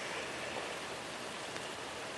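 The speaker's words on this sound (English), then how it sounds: "It's raining like a son of a gun still." Heavy rain pours steadily around a hunter's tree stand in the woods, a dense, even hiss with no gaps, fairly faint and alone without any voices.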